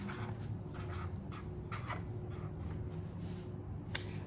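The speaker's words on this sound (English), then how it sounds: "I'm gonna write the word soup." A pen or pencil scratches out a word on paper in a few short, quiet strokes over a low background hum, with a brief louder tap near the end.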